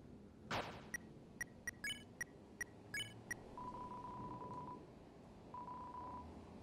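Wingdings phone being dialed in Deltarune: Chapter 2, a quick run of about eight sharp, evenly spaced electronic keypad tones, then two long steady beeps held over low background noise.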